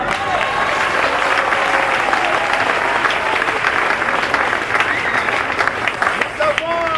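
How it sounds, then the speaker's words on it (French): A crowd at a radio station launch applauds loudly and continuously, a dense wash of clapping that swells and holds for several seconds, with a voice speaking faintly over it. "On applaudit très fort"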